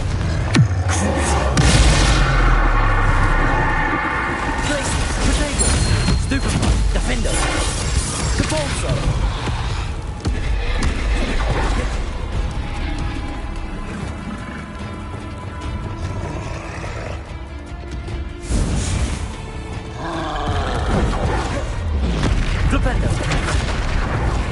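Confringo fire spell blasting in the Hogwarts Legacy video game, a dense run of loud booming explosions and crackling impacts over a continuous game soundtrack, with speech present throughout.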